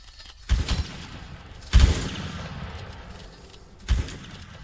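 Gunfire in a competitive shooting match, heard as three spaced heavy bursts of shots with low booming reports over a steady background rumble.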